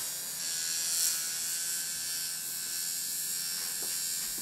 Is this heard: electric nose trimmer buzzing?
yes